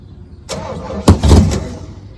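A Pontiac Firebird left sitting for nearly 30 years is cranked over, loud and close: a short starter burst, a pause, then a sharper crank with sputtering engine bursts that fade out.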